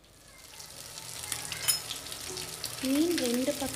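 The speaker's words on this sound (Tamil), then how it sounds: "வாங்க இப்போ மீனை பொரிச்செடுத்துடலாம்." Fish frying in oil on a dosa pan, a close sizzling crackle that builds in loudness over a few seconds, with a short voice sound near the end.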